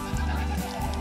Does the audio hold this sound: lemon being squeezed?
no